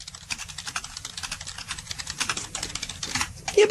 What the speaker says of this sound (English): I can type with 2 fingers, but I can type still fast with 2 fingers.